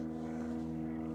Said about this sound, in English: It makes you imagine how loud it is like inside of that little plane.